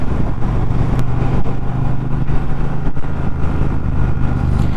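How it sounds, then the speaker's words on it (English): A 2019 Triumph Bobber Black motorcycle engine rumbles steadily and loudly from close by with a deep, throbbing low idle and small pulses of throttle, heard alone without speech while riding in traffic. "It sounds absolutely lovely, this bike does."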